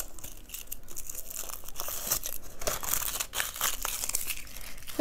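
A thin foil or plastic wrapper around a surprise toy egg is torn and crinkled open up close, with bursts of crackling, ripping and rustling over several seconds and no talking.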